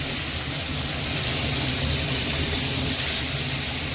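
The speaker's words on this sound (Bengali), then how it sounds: "এঁচোড় আর আলুটা আমি একসাথেই ভাজবো, আর আগে চিংড়ি মাছটা আমি ভেজে নিই।" Prawns frying in hot mustard oil in a pan give a steady, dense sizzle and hiss that stays loud and even throughout, with no talking.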